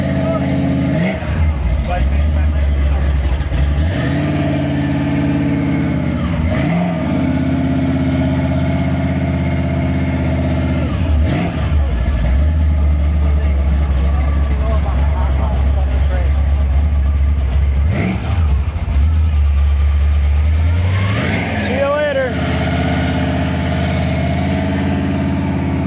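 A Willys engine at a car cruise idles loudly with a deep, steady rumble, then is revved again and again in rising sweeps that fall back to idle, while people talk nearby.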